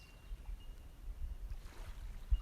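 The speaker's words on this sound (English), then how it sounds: "You can hear the water lapping here" Gentle water lapping at a shore, a soft continuous wash with low rolling surges and a small splash near the end, quiet and steady with no voices.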